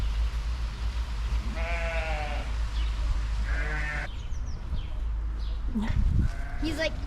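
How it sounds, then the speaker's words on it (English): Several goats bleat nearby in short wavering cries over a low rumbling background, with a voice speaking briefly near the end. "Look at all those cute little goats."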